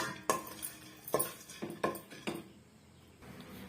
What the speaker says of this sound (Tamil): லைட்டாக வந்து ஒரு டூ மினிட்ஸ்க்கு நம்ம வறுத்து எடுத்துக்கிட்டா போதும்